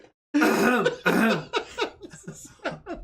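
A single polite cough followed by a brief throat clearing, close and clear, with a short trailing vocal sound afterward and no other noise.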